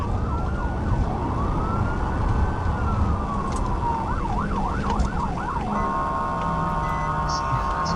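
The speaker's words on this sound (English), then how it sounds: "You can see them sirens and hear them from a mile away." An Arkansas State Police siren wails through heavy traffic noise in a video game chase, sweeping up and down, then switching to a fast warbling yelp and a steady tone, fairly loud and nearby.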